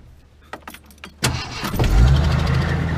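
An old six-cylinder car engine cranks and fires up after a few quiet clicks and handling noises, then settles into a loud, steady, rumbling idle close by.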